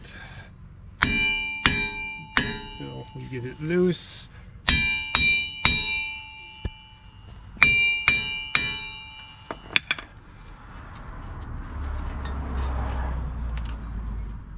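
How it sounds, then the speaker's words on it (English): Sharp metallic clangs from hammer blows on the front wheel hub of a 2004 Ford F-150 V8 4WD, struck in quick clusters with ringing tones, followed by scraping; a voice speaks briefly. "when I hammer on the hub it's not gonna fly"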